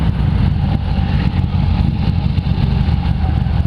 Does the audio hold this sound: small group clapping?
no